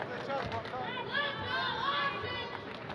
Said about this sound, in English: Hearing the chants from the hometown crowd here in the Municipal Auditorium.